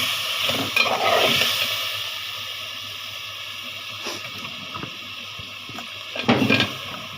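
Lentils with salt and water are stirred and cooked down in a pan over a steady sizzling hiss, a few louder scraping stirs at the start and end, close up and with no voices.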